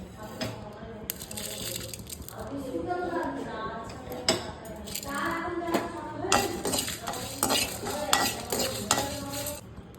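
Whole panch phoron spices with coriander and dried red chillies fry in hot oil, crackling and sizzling while a spoon stirs and scrapes the pan with frequent clinks.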